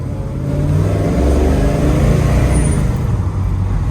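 A 1970 Chevrolet Chevelle SS 454 with a big-block V8 drives along, a loud steady low engine rumble filling the whole stretch, slightly swelling mid-way.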